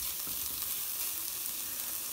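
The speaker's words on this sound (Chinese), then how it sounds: "加了调味料之后呢，我们就炒匀它，我们用慢火得了，不用大火" Seasoned mixed vegetables stir-fried over low heat for a fish-fin melon vegetable soup, a steady soft sizzle with faint scraping of the spatula, close and even throughout.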